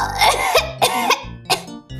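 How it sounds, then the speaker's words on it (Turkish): A person coughs several times in quick, raspy bursts, close by, with short pauses between each cough. "Neden bu kadar çok öksürüyorsun?"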